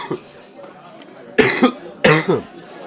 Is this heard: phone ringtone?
no